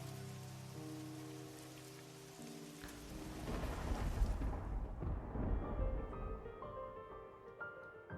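Rain in the video game Merry's Seven Wishes pours steadily while a deep thunder rumble swells in the middle and fades. Soft music tones sit underneath at the start, and the downpour continues afterward.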